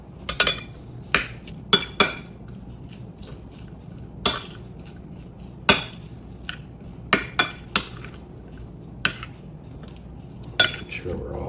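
A spoon clinks sharply against a bowl about a dozen times at irregular intervals while egg roll filling of mashed potato and chopped green onion is mixed, the clinks standing over a soft, steady background.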